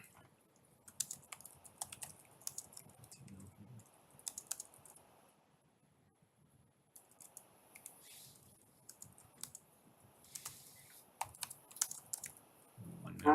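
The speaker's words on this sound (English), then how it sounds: "I'll let Andrew finish typing." Quiet bursts of keystrokes come from a computer keyboard in a public meeting room. The typing pauses midway, then resumes in uneven clusters, with a voice briefly audible.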